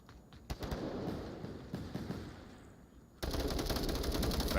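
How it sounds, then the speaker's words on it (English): Gunfire in the VR shooter Onward during a competitive championship match, with sharp shots cracking out at the start and then a dense, sustained burst of rapid automatic fire toward the end, loud and close. "Immediately, gunshots ringing out."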